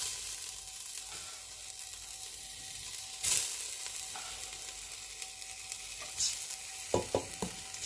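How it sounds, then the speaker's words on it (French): Basmati rice tipped into a new saucepan and stirred, giving a steady low sizzle with a few scraping stirs and clinks near the end, close and moderately loud. "je vais mettre mon riz dans cette nouvelle casserole"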